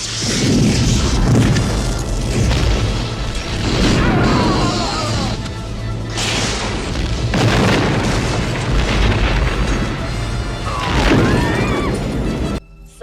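Starship weapons fire and explosions from Star Trek ring out as loud, repeated booms and crashes in dense bursts, with voices shouting commands beneath the battle din.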